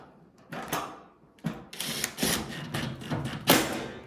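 Screws being driven back into a Samsung DV40J3000EW/A2 dryer with a no-heat fault, a run of close mechanical ratcheting and whirring bursts with clicks and pauses between them.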